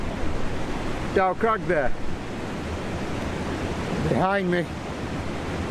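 Cove Beck, a stream fed from Goat's Water, rushing loudly and continuously close by as a broad, steady roar, with someone talking briefly over it.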